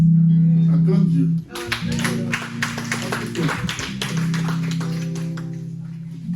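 A church congregation claps together in a steady, rhythmic beat, loud and close, over sustained low musical or vocal tones that continue underneath.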